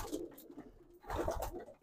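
An old racing pigeon coos softly in its loft, a low throaty burr repeated twice in quick succession against quiet surroundings.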